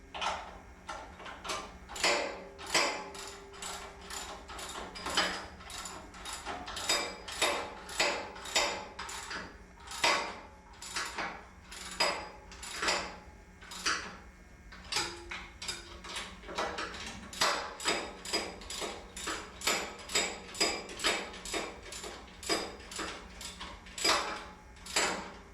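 A wrench ratchets steadily on the motor mounting bolts during a studio belt replacement, giving a close run of sharp, rapid clicks in repeated bursts with short pauses between them. No one speaks.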